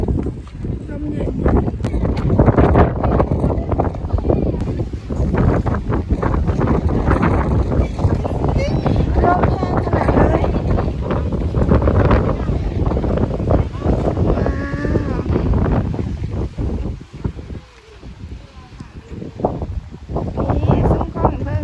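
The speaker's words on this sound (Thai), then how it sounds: "ลมเย็น" Wind gusting and buffeting the microphone at a seaside bridge, a continuous rough roar through the whole stretch, loud and close, with someone talking over it.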